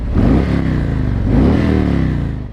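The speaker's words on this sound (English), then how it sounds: "900-pound internal combustion engine making noise" A 900-pound motorcycle's internal combustion engine revs up twice in quick succession, loud and close, its throaty rumble rising and settling between bursts.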